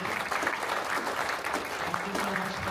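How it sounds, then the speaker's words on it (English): Audience applause for panelists at an evening startup pitch event, a dense, even patter of many hands clapping heard at moderate distance and sustained throughout. "Can we get a round of applause for our panelists as well?"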